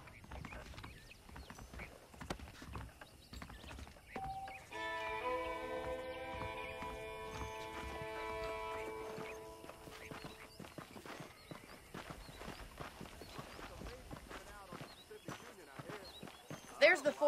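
Horse hooves clip-clop steadily in Red Dead Redemption as a rider sets off, the rhythmic footfalls running throughout under a musical passage and bursts of speech.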